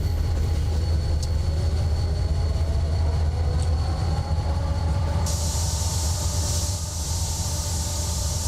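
A train rumbles steadily along the track in the Train Simulator game, a loud continuous low roll with faint high squeals, and no voices.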